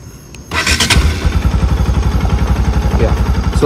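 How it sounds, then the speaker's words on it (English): A Bajaj NS 200 motorcycle engine cranks briefly after quiet, then catches and settles into a loud, steady, rapidly pulsing idle close by. "just start your bike"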